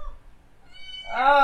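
A domestic cat lets out a loud, close meow that rises and swells toward the end, following a faint quieter cry, with no talking over it.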